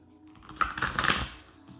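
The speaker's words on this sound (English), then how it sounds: "I'm doing my shuffles and I'm putting the decks out" Tarot and oracle card decks being shuffled, a short burst of papery riffling and card clicks lasting under a second, close and fairly quiet with no talk.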